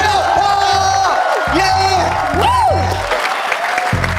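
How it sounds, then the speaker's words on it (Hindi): Studio audience at a comedy roast show clapping hard for the panelists, steady loud applause with whoops and shouted voices over music tones throughout. "एक बार जोरदार तालियां बजा दीजिए हमारे पैनलिस्ट के लिए"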